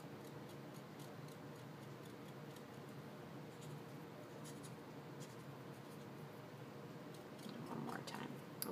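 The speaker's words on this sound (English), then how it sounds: "So I'll just keep running it on my scrap paper until most of the ink is gone" A marker is rubbed back and forth on scrap paper to wear off its ink, making a faint, steady scratchy scrubbing with small ticking strokes, close and quiet throughout.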